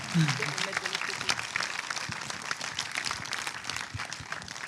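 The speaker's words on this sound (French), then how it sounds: "la salle vient de vous applaudir" A cinema audience claps at a 2022 festival closing-night screening, steady crowd applause throughout, moderately loud, with people talking over it.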